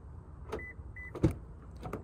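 A 2021 Toyota RAV4 Adventure's doors unlock by smart key: a few short clicks and a brief louder clunk near the middle, close by and alone with no talking.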